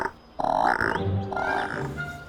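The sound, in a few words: cartoon frog croaking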